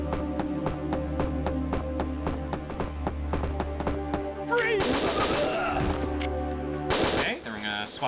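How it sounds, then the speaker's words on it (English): SMG gunfire from the video game Winback, breaking boxes: rapid, evenly spaced shots in a steady rhythm, then a burst of shattering impacts over background game music with a voice talking. "Swap the SMG for taking out boxes like this."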